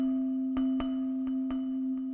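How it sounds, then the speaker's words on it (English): Omnisphere Gamelan Meditation synth patch holding one steady ringing tone with soft struck accents repeating every half second or so, quiet and alone. "I got a sound loaded up in Omnisphere, Gamelin Meditation"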